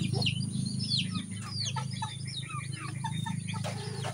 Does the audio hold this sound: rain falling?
no